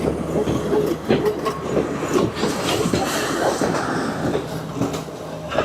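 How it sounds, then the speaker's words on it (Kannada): A Sri Lankan train with old wooden carriages rolls out of a tunnel and across the Nine Arch Bridge, a loud, close, continuous rumble with rhythmic clattering of wheels on track. "ಶ್ರೀಲಂಕಾದ ಟ್ರೈನು ಟನಲ್ ಒಳಗಡೆಯಿಂದ ಬಂತು ನೋಡ್ರಿ."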